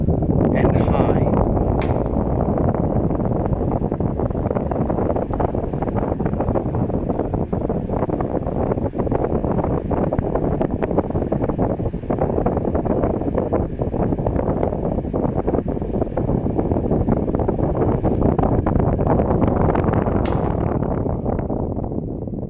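A 1985 KDK 16-inch table fan, type B-40BM, with a stiff motor runs on its high setting, giving a steady, close, rushing whoosh of moving air that fills the whole stretch.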